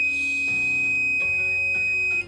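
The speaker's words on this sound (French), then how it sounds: "Et là on s'aperçoit concrètement que la DEL s'allume ainsi que le buzzer." An electric buzzer in a school conductivity test circuit sounds as current passes through steel wool, a steady piercing electronic tone lasting about two seconds, close and loud, with slight stutters in pitch.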